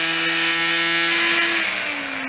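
A simple brushless DC motor whirs at high speed with a steady, close, bright whine, its pitch sliding slightly lower toward the end.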